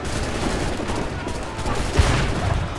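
Gunfire from a battle in the video game Assassin's Creed III, a continuous crackle of volleyed shots with one sharper boom near the end, heard under someone talking.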